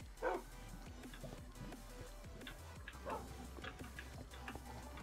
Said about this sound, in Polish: Oj, pies.